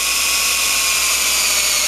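A power drill runs steadily at high speed while driving a screw into a joint of a U-stand, a continuous close, loud whine with no pauses and no talking.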